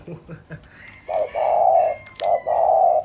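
A dove coos close by in a few low, rounded notes, the longer calls coming in two rhythmic bursts after some brief soft sounds.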